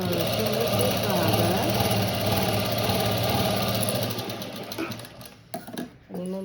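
An electric sewing machine stitches a blouse made from a sari border, with a steady, fast motor hum and needle rhythm for about four seconds, then slowing into uneven bursts, clicks and brief stops.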